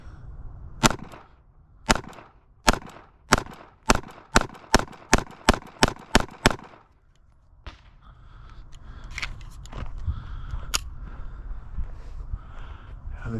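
A Ruger LCP Max pistol fires about thirteen sharp, loud shots at a target, spaced at first and then in a faster string, followed by a low rumble of outdoor background noise.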